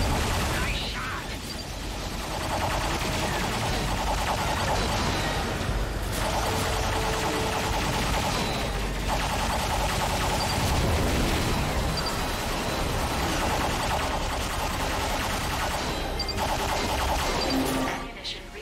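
Guns firing in the video game Ratchet & Clank, a steady dense barrage of shots and blasts running throughout, loud and continuous, with game voices talking over the action.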